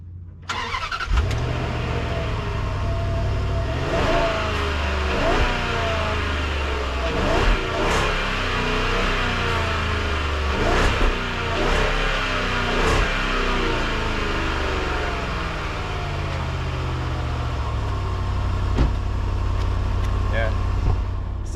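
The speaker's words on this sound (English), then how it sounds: "Stock exhaust sounds about a little bit more peppy and makes some intake noise here at the front." A Land Rover with its stock exhaust starts up close by, then revs repeatedly in rising and falling bursts between spells of rumbling idle.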